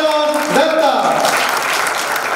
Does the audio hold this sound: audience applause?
yes